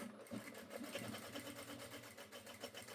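Sewing machine stitching a seam along the edge of a fabric marker case, running steadily with a fast, even stitching pulse, faint and alone with no talk.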